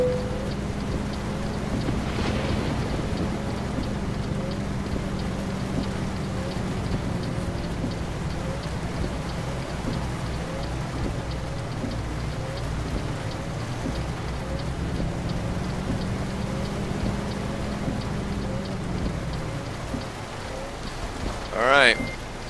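Steady rain pattering at night in the video game Euro Truck Simulator 2, a continuous wash under the low drone of a truck engine, with a brief louder clatter near the end.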